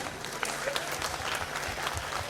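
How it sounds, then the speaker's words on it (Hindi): A small group claps for a child at an indoor gathering, a brief patter of hands that stays fairly faint and even for a couple of seconds. "स्काई के लिए जोरदार तालियां।"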